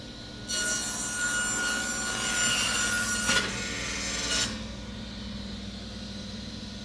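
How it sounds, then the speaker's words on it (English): Table saw cutting a board of wood, a steady high rasping whine for about four seconds with a brief surge partway through, then the blade spinning on alone. "we're just going to run some wood across the table saw and just see how it goes"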